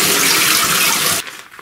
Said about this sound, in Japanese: これをザルでこします。